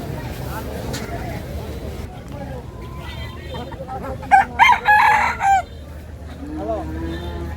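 Chickens cluck and a rooster crows loudly at a village market, amid background chatter and a voice talking nearby.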